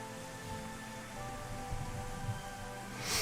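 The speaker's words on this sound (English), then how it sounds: "The rain picked up and grew more intense" Rain in the Trinoline video game falls as a steady, soft hiss that swells a little toward the end, with faint sustained musical tones beneath it and no voices.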